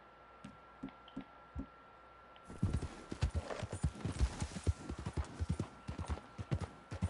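A personal Belgian horse in Red Dead Redemption 2 approaches: faint, scattered hoof thuds give way to a loud, close run of rhythmic clip-clopping hooves over ambient background.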